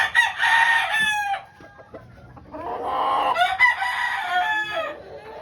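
A three-year-old tornado hatch gamecock crows twice, each long call loud and close, separated by a short pause filled with softer clucking and faint background noise.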